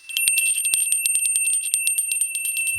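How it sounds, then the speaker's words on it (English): A small bell rings rapidly and repeatedly, bright metallic dings in a steady, fast trill that rings loud and clear for almost three seconds with no talking. "The frequency of bells"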